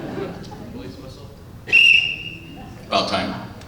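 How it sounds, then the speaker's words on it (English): A police whistle gives a sharp, shrill blast followed moments later by a second, rougher burst, both loud and piercing over a murmuring room, part of a series of novelty whistles played on stage at a symphony orchestra concert. "Police whistle."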